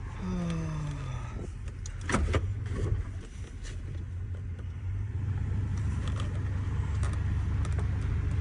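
Dad's car rolls along with a steady low engine rumble, while a power window whirs briefly at the start and a few light knocks and clicks come from the cabin.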